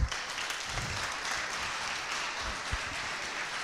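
An audience claps after a team's final pitch at a wood-themed hackathon, a modest, somewhat distant patter of applause that stays fairly even with a few louder knocks.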